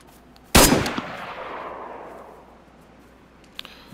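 A single loud gunshot goes off in a video game, a sharp blast followed by a long decaying echo, then a faint click and a soft distant pop near the end.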